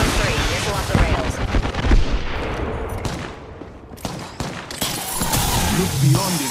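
A busy Apex Legends firefight with a missile launch, dense rapid gunfire and explosive bursts, loud and continuous, with game voices over the action.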